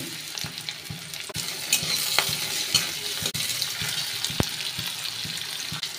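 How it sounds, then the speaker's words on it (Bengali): Chopped garlic frying in oil in a pan, the base for a fish-oil chochori with onion to follow: a steady bright sizzle with soft scraping stirs and small pops throughout, close and even, no talking. "রসুনটা একটু ভাজা ভাজা হয়ে গেলে দিয়ে দেবো একটা পেঁয়াজ কুচি"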